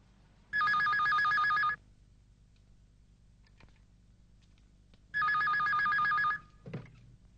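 Telephone bell ringing in two loud bursts of about a second each, separated by a pause, the second cut off abruptly by a clatter as the receiver is picked up, no talk.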